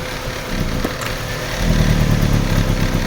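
Chevrolet Aveo manual engine with low power and heavy vibration being revved, a loud rough idle that rises midway into a heavier, louder throbbing roar.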